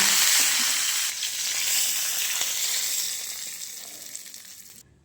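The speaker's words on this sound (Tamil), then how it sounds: "கடுகு, இந்த கருவேப்பிலை சேர்த்துலாங்க." Mustard seeds and curry leaves sizzling in hot oil, a loud bright crackle at first that gradually settles and fades toward the end, with no voices.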